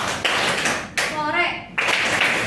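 A group of students in a classroom claps hands together in sharp, loud bursts, with pauses of quiet in between, and a teacher's voice is heard around the claps.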